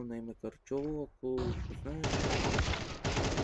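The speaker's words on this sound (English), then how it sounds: "The AK-47 headshot." Rapid automatic AK-47 fire from a Counter-Strike 2 match, loud and close, rattling steadily for about two seconds after a short stretch of speech, with a brief gap before the burst resumes.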